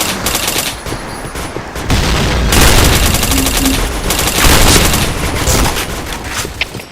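Dense automatic gunfire and explosive bursts from the online shooter Point Blank, loud and continuous throughout with rapid overlapping shots and booms, and a brief callout voice now and then.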